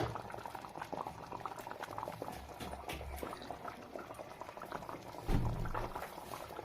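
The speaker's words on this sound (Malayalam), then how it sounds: "നന്നായിട്ട് വെന്ത് കുറുകി പറ്റട്ടെ" Karimeen (pearl spot) fish curry bubbling in a covered pot on a home stove, a steady crackling simmer with soft popping bursts and a louder surge of bubbling near the end, no voices.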